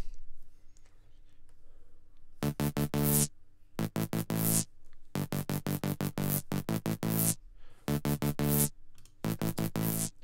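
A dancehall bass line with shimmer and compression added, heard as a series of punchy, sustained notes in short rhythmic groups with bright upper overtones, close and fairly loud, separated by brief pauses.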